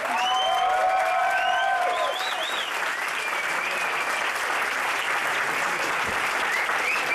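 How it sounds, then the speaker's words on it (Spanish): Concert audience in Madrid giving a loud, sustained round of applause, dense clapping with a few whistles and cheers near the start. "para los que voy a pedir un fuerte aplauso"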